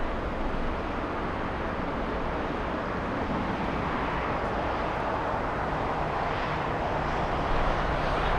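A United Boeing 787 Dreamliner taxis to park at LAX, its engines a continuous, even broadband roar and whine, fairly loud and unchanging throughout.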